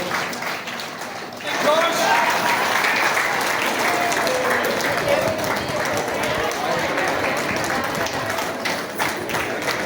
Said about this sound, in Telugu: అంతా చప్పట్లు కొడుతున్నారు